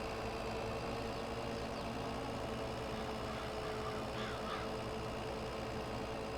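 Farm tractor engine running steadily while mowing hay on a country park field, a constant loud low drone with no breaks and no talk.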